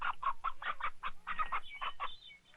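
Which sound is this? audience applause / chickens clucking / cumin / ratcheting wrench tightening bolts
chickens clucking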